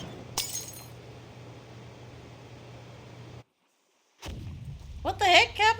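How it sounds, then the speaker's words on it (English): An explosion near a clinic in the video game Tristes Tropiques: a sharp blast over a low rumble, a moment of silence, then a loud crashing burst followed by a voice. "Sounds like some kind of explosion near the clinic."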